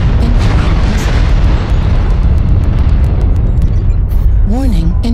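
Booming missile explosions in a sci-fi multiplayer video game, a loud continuous rumbling blast filling the whole stretch, with a synthetic warning voice and tones rising near the end.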